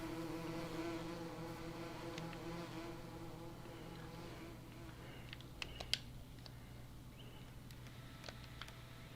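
Bees buzzing in Farming Simulator 19 make a steady, low droning hum that stays continuous throughout, with a few faint clicks and taps on top.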